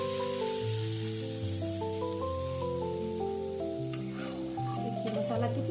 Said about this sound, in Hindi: इसे भी हम 1 मिनट तक भूनेंगे।